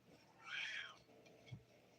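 A cat meows indoors once, a clear mid-length call at close range, followed by a soft low thump and quiet room tone.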